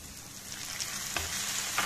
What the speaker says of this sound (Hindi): और तब तक चलेंगे जब तक कि हमारे टमाटर सॉफ्ट नहीं हो जाते